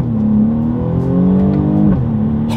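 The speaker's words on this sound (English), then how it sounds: "let's test out the paddle shifters here, see how quickly they react for us" A 2020 BMW M235i Gran Coupe accelerates hard with paddle-shifter gear changes, its engine note rising loud and close before dropping sharply at an upshift, with no talk.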